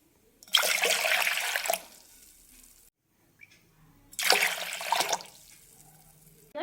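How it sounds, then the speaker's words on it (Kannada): Water is poured from a bowl into a cooking vessel for making upma: two separate splashing pours, each about a second long, sound close and fairly loud, with a quiet pause between them. "ಅದೇ ಬೌಲಿಂದ ನಾನು ಇಲ್ಲಿ 3 ಬೌಲ್ನಷ್ಟು ನೀರು ತಗೊಳ್ತಾ ಇದ್ದೀನಿ."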